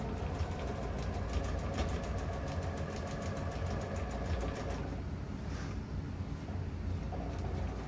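A sewing machine stitching lined track pants fabric at speed, a fast, even mechanical rattle close up that runs steadily, then eases into a lighter whir near the end.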